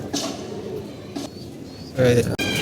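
Pigeons coo softly in a loft amid faint chirps and rustling, with a louder burst of flapping or movement near the end.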